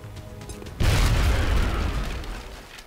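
Grenade blast in XCOM: Enemy Unknown: after a quiet lead-in with faint game noise, a sudden heavy boom erupts close and loud, then rumbles and slowly fades over the next two seconds.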